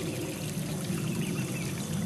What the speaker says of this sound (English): And we have a waterfall here.